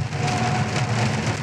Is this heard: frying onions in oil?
no